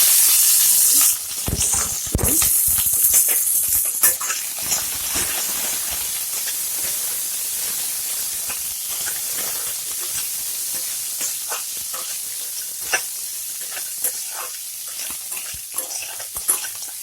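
Vegetables and raw noodles are stirred continuously and fried on a high flame, a loud, dense hiss and sizzle with repeated scraping clanks of the spatula, strongest at the start and easing into a steady crackle.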